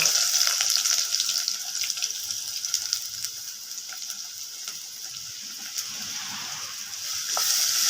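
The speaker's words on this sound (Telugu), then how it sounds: "ఉల్లిపాయలు కొంచెం వేగాలి" Sliced onions frying in hot oil with turmeric, a steady close sizzle and crackle running throughout with occasional stirring clicks.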